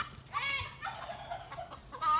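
Chickens cluck and squawk up close in a short, busy burst of rising and falling calls, with farmyard noise around them.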